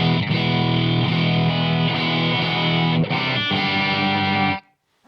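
Electric guitar through a Marshall Code 50 amp with resonance set to zero, a distorted sustained chord ringing dense and loud for several seconds before cutting off abruptly into silence.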